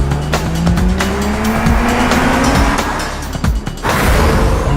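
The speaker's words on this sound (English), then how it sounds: "I need to warm up these tires." A 2022 Mercedes-Benz GLC driven hard to warm up its tires gives a loud, close engine roar, with a rising squeal and skidding scrub from the tires. Knocks and bumps punctuate the sound, and there is no talk.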